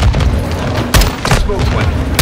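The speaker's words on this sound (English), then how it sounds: "They're launching grenades!" Grenade blasts in Call of Duty Modern Warfare II, several loud booms going off in close succession over heavy combat noise, with voices shouting underneath.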